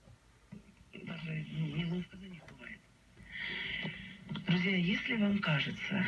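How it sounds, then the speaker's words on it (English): A vintage Zenith 5R086 tube radio warms up and comes alive with a voice from a local Russian-language station, faint crackle and low hum underneath, the broadcast growing louder in bursts. "This just gets steadily brighter and brighter until you hear the first crackle and hum."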